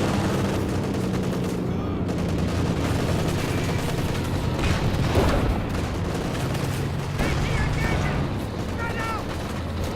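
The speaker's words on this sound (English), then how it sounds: "Cluster bombs being dropped on an OKW blob." Cluster bombs pound a clustered group of OKW troops in a real-time strategy battle: dense, continuous rattling blasts and bursts of gunfire with booming impacts, loud and sustained through the whole stretch, with faint talk underneath.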